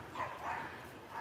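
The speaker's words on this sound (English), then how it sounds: "It was barking at a car." A dog barks outdoors in a yard, apparently at a passing car, a few yelping barks at moderate distance over steady background noise.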